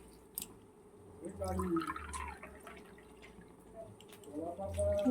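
Water poured cup by cup into a pot for Bengali hilsa and prawn pulao, with short splashing pours separated by pauses, fairly quiet and close.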